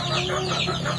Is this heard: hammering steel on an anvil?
no